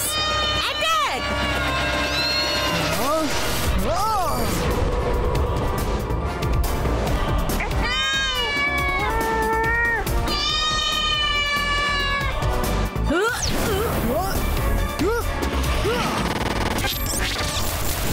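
Cartoon cats meow and caterwaul through a loud animated attack scene, with crashes, whacks and a music bed, while characters shout and talk over the commotion.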